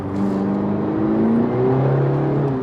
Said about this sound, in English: As soon as it comes on the boost, it wants to slip the clutch.